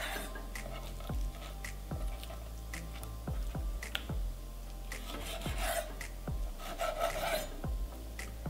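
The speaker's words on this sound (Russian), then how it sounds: "У меня это хек, разрезаю порционно." A knife slices a hake fish fillet into portions, giving a series of sharp, separate cuts and taps on a board with light scraping between them, close and moderately loud, with no talking.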